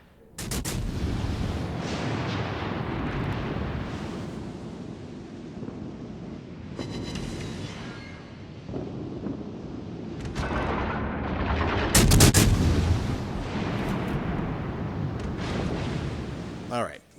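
Naval gun salvos boom around the cruiser Prinz Eugen in World of Warships: Legends, with heavy, rumbling blasts and sharp cracks arriving in clusters over continuous sea and battle noise.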